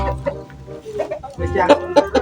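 Several chickens cluck and cackle close by in a busy, irregular chorus, mixed with a voice talking.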